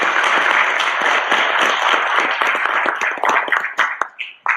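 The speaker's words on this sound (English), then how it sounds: "We give them a round of applause." Audience clapping at a research-to-commercialization technology event, a dense round of applause that thins into scattered individual claps near the end.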